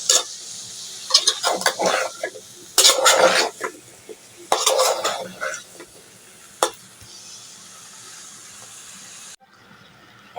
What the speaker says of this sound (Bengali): এখন সবজিগুলো ভালো করে কষিয়ে নেব।